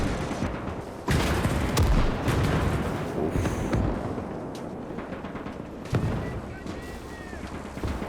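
Dense gunfire and artillery in the Gates of Hell war game's Mannerheim Line battle at Lähde, a continuous loud rumble of explosions and shots with sharp booms standing out, under a brief voice.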